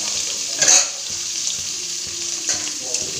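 Bitter gourd frying in oil with mustard seeds, onion, curry leaves, tomato and spices, a soft steady sizzle with a few stirring scrapes and clicks, close and without talk.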